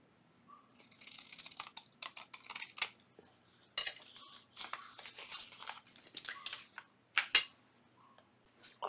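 Close, quiet scissors snip through paper while a small junk-journal envelope is trimmed, giving a series of crisp cuts and rustles with short pauses between them. No one speaks.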